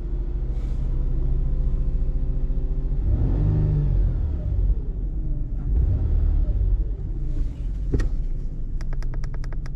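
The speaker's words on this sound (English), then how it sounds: "Let's give it some throttle here." A customer's vehicle being checked for an intermittent vibration has its engine revved under throttle, a deep rumble swelling twice into louder accelerating surges before settling, with a brief sharp click near the end.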